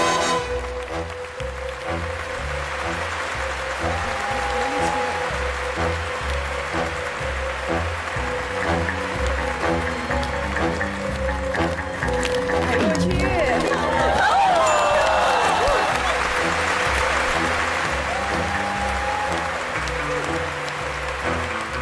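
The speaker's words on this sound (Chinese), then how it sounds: "来，掌声有请。" A dating-show studio audience applauds as a male contestant walks on, a long, steady roar of clapping mixed with background music and some crowd chatter, swelling slightly louder partway through.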